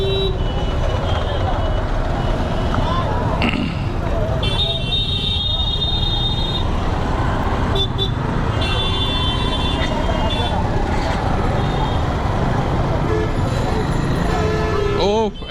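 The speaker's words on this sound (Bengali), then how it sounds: "আর আজকে এত জ্যাম যা বলার বাহিরে" Heavy traffic noise in a Saidabad jam in Dhaka, with a continuous rumble of car, bus and truck engines and repeated horn toots near and far, under occasional talk.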